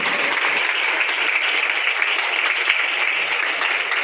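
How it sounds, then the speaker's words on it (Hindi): A gathered audience claps loudly and steadily for a sister at a church gathering, a continuous dense patter of many hands with no break. "तो हम सिस्टर के लिए ताली बजाएंगे सब लोग जोर से"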